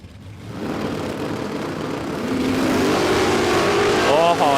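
Drag race cars, a Monaro against a Commodore, launch down the strip at a Queensland drag racing championship round, with a loud, steady engine roar that swells and builds over several seconds and a faint voice underneath.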